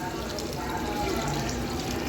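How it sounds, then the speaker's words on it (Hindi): Water added to a pot of spinach and beef (calf meat) being cooked, a steady continuous pouring and splashing wash that runs throughout at a fairly even level. "तो अब हम यहाँ पानी ऐड करेंगे।"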